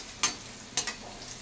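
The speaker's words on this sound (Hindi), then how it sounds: "देखिए सब कोफ्ते तल रहे हैं" Bottle gourd koftas frying in oil, a faint steady sizzle broken by two sharp scraping clicks of a utensil moving them in the pan.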